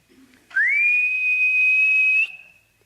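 A single high, steady whistle that slides up quickly and then holds one eerie pitch for nearly two seconds before cutting off, heard alone.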